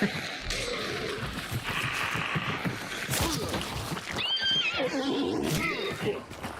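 A horse in the video game Hunt: Showdown 1896 whinnies twice in rising, wavering cries, loud and close, over a busy layer of thuds and clatter.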